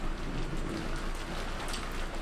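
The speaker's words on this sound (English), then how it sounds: "The sound of the rain against the window echoed through the room" Steady rain patters against a window during a storm, a dense, even hiss of drops with no pauses, heard alone at moderate volume as a visual novel sound effect.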